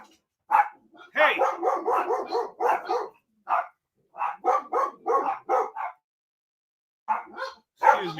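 Several dogs bark indoors in loud, rapid bursts, with short pauses between volleys and close, sharp yaps; a person briefly shouts over them.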